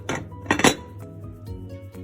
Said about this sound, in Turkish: Kapağını kapatıp 10 dakika kadar pişireceğim.